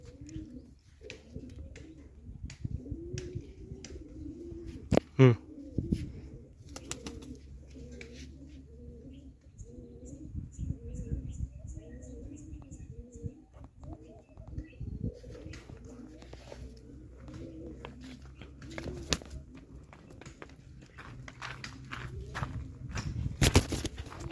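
Many pet pigeons roaming free at a large pigeon feeding tower coo in repeated rolling calls, with footsteps, scattered knocks and occasional chirps around them.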